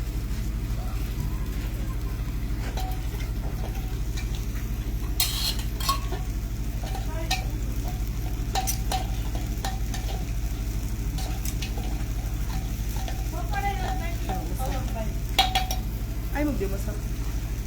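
Oil sizzles in a pan as food is stirred with a utensil, a steady frying hiss with scattered scraping clinks, and low voices talking nearby.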